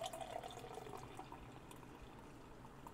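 Chai Whoopie Pie brown ale from Warhorse Brewing Company is poured straight into a glass, a soft, faint trickle and splash of liquid that stays quiet throughout.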